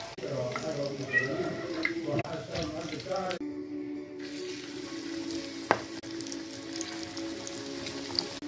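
Breaded cutlets fry in a pan with a steady, close sizzle and crackle, joined by a few clinks and scrapes as they are turned, while a voice speaks briefly early on.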